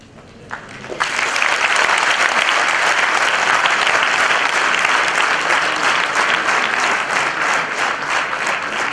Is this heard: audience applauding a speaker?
yes